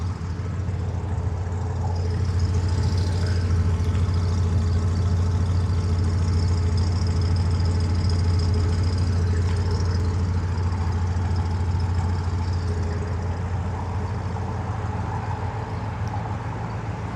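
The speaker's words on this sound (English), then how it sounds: "Very nice sounding exhaust." A steady, low rumbling idle from a 1970s-style Oldsmobile 442 convertible V8 with PowerGlide automatic, a deep throaty exhaust note, constant and close, with no speech.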